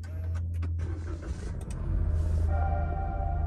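A Toyota Raize engine starts with a brief cranking whir, then catches and settles into a low, steady idle rumble heard close up from inside the car, with no talking.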